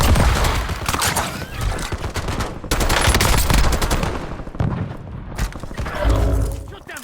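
AK-74 Death Rock assault rifle firing in the Black Ops 6 video game, rapid full-auto bursts with short gaps between them, loud and close, with game effects underneath.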